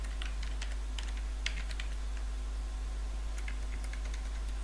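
Fairly quiet keystrokes on a computer keyboard as an email address and password are typed, light irregular clicks in bursts over a steady low hum, with no talking.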